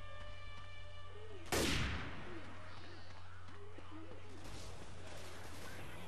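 Gunfire in the video game Left 4 Dead 2, one loud sharp blast standing out early over a low steady hum, followed by fainter scattered noises and distant chatter.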